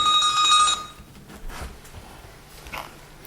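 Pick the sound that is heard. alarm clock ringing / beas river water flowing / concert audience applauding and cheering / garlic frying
alarm clock ringing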